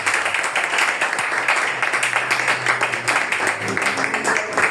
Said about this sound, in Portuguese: Vamos aplaudir Jesus com uma alegria.